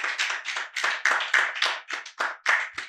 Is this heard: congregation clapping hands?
yes